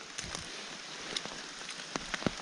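Heavy rain falling outdoors on a cold day in a forest, a steady hiss with scattered louder drops and patters, no voices.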